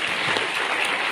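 An audience applauding at a Gadag arts academy ceremony honoring a theatre performer, a short burst of dense clapping, steady and fairly close with no talk.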